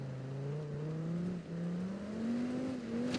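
Video game car engine straining uphill while badly damaged, close to failing, a steady laboring drone that slowly rises in pitch with a brief dip midway, continuous and loud.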